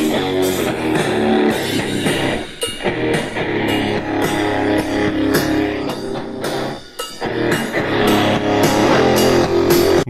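Music plays from an inexpensive Bluetooth speaker, a continuous rhythmic track with steady beats and a couple of brief dips, moderately loud and clear with no talking.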